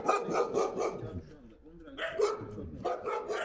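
An eleven-month-old Anatolian shepherd puppy gives a quick run of loud, close barks, pauses briefly, then barks again, with people talking alongside.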